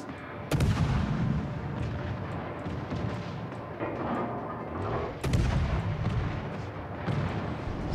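Heavy naval gunfire from warships in World of Warships lands as two loud booming salvos that roll on and rumble, with continuous battle noise between them.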